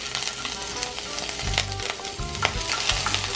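Ginger sizzles and fries steadily in a pot for a Chinese-style spaghetti dish, with low thumps of stirring recurring every second or so under the bright, close crackle.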